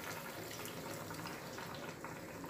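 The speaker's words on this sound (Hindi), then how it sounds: "अभी मैं फिर से गर्म पानी इसमें डालूँगी, जैसे चाशनी सूख नहीं जाए" Hot water poured into a kadhai of sugar syrup, a steady broadband splash and gush of liquid running continuously and fairly loud throughout, with no voices.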